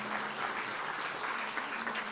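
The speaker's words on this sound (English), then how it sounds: "please join your hands for a huge round of applause to Professor Raghunathan Rangasamy" Steady applause from an audience at a university convocation ceremony, a dense continuous patter of many hands clapping at moderate distance, with no talking over it.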